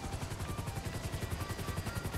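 Rapid rhythmic thudding of a helicopter's rotor in GTA 5 chops steadily under a faint whine, fairly quiet and constant throughout.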